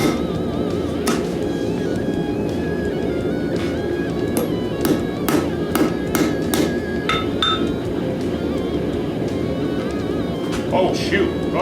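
A hammer strikes a hot cut chisel again and again as it cuts through a cheap knife, sending sharp metallic rings in an irregular series, close and loud over a constant background hum.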